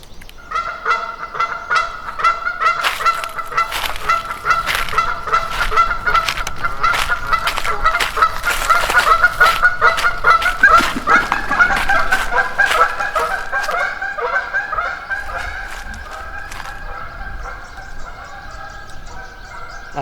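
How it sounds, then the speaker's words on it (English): Geese honk repeatedly in the woods during a spring turkey hunt. The calls come as a noisy chorus of harsh, overlapping honks that build to a dense peak and then thin out, fairly close and with no talking. "I can't hear anything except geese"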